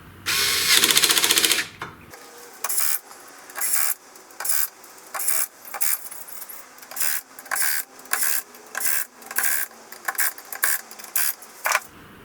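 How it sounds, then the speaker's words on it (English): Screws driven in while assembling a CNC router gantry: a power driver whirs in a long burst, then in a string of short, even pulses, close and clear. "just hold this fairly firm and do your screws up"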